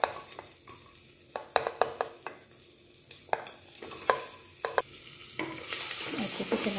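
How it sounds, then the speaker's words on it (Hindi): Ginger, garlic and whole spices roast in a pan under a spatula, giving a run of sharp, irregular scraping knocks over a quiet sizzle that swells into a louder, fuller hiss at the end. "चलाते हुए भूनेंगे।"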